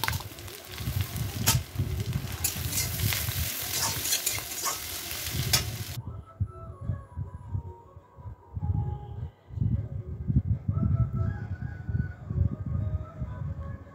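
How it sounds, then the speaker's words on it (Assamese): Onions and two bay leaves fry in hot mustard oil in a wok with a loud, dense sizzle and stirring scrapes. The crackle is bright and full at first, then settles into a softer, steady frying hiss with no talking. "তেল গৰম হওঁতে দুখিলা তেজপাত আৰু পিঁয়াজ এইখিনি দি দিলোঁ ভাজি ল'ম"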